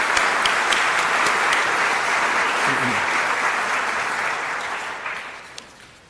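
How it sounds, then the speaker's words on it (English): An audience at a civic association annual meeting gives a round of applause. The steady, dense clapping gradually fades out toward the end. "A round of applause, please, for all of them."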